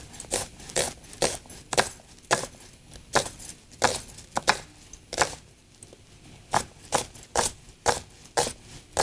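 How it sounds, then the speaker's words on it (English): A sharp knife chops an onion on a cutting board in a home kitchen, with steady, fairly quick strokes. Each close, crisp knock is followed by a short gap, and there is no talking. "Then I'm gonna cut the onion."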